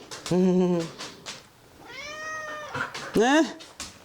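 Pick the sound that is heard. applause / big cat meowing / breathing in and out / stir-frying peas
big cat meowing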